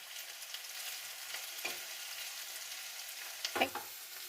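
Onions fry in a pan with a soft, steady sizzle, punctuated by a couple of louder scrapes or stirs, heard close and alone without talk.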